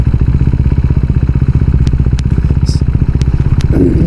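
A KTM RC 390 motorcycle rides along a busy morning road, its single-cylinder engine thrumming steadily and close with a fast regular pulse, wind noise over it and a few light clatters.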